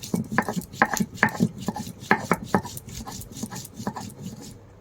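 Whole spices are worked by hand on a grinding stone, a close run of sharp, rhythmic knocks and gritty scrapes repeating in quick uneven strokes, louder early and easing off toward the end.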